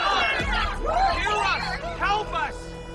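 Crowd of game characters clamoring together at a public assembly in Honkai: Star Rail, a loud, continuous babble of many overlapping voices rising and falling throughout.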